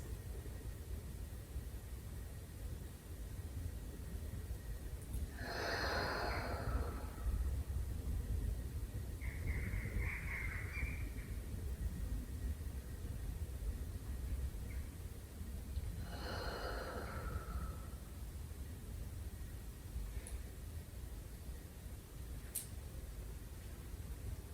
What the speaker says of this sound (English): So everyone exhale out, and then inhale for 6.